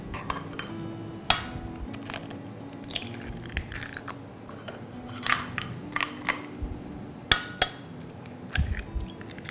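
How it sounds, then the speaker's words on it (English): Eggs are cracked one by one into a jug sitting on kitchen scales, giving several sharp, close taps and cracks spaced irregularly over a quiet room background. "And then I'm going to break each of the eggs into it"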